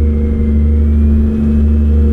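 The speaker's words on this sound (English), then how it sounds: "Z-model engine, our best engine." Steady, loud truck engine drone from a convoy run in American Truck Simulator, a deep constant hum held at even revs with no voices over it.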